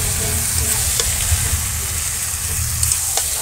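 Meat tipped into fried spices in a pot, giving a loud continuous sizzle and hiss with occasional stirring scrapes, cooked by torchlight during a storm with the power out.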